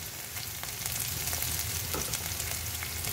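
Chopped onions fry in a hot pan while being stirred, a steady close sizzle with light scraping throughout, no voices.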